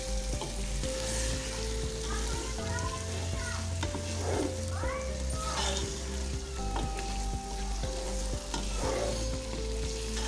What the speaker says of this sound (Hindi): इसको चिकन को फ्राई करना है इसी के अंदर